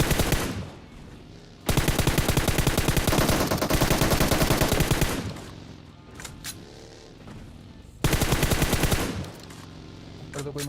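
Gunfire in a sniper-versus-sniper video game match, with long bursts of rapid automatic fire alternating with shorter sharp volleys and brief pauses, loud and close.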